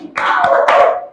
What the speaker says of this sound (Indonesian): 2 kali tepuk cimpai.